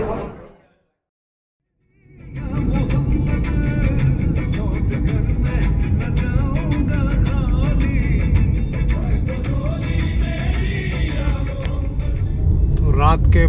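After a moment of silence, a car cruises down a highway at night with a loud, steady road rumble and wind roar lasting throughout, and a voice talks over it.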